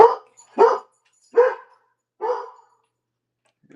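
A pet dog barks four times, loud and close, in evenly spaced single woofs separated by silence.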